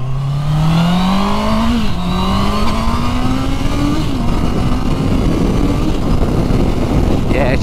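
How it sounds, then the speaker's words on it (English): A Honda CB650R four-cylinder motorcycle engine winds up and revs through several climbing pulls, its pitch rising in steps, loud and close, with wind rush and a rider talking over it. "It's a four cylinder, so it's got that cracking engine note to it."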